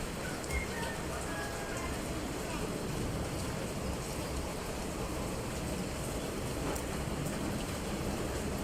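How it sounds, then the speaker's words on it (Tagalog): Rain falling on a slippery outdoor path, a steady, dense hiss that runs without a break for the whole stretch. "umuulan"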